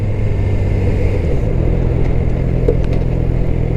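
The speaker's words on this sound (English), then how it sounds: "Downshifting" A Suzuki GSX-R sport motorcycle's engine downshifts, its steady mid-pitched drone stepping down as the revs drop, loud and close throughout with no talking.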